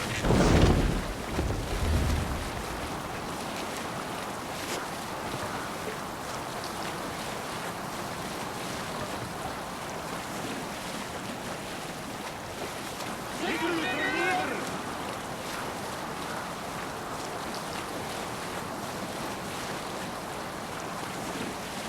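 A Viking longship sails the open sea in Assassin's Creed Valhalla, with a steady wash of waves and wind rushing past after a louder splash at the start. A brief shout rises partway through.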